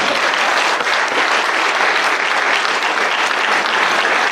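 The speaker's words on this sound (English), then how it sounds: "clap it up one more time" Sustained, loud applause from an audience at a school athletic hall of fame induction ceremony, steady dense clapping filling the room for several seconds without talk.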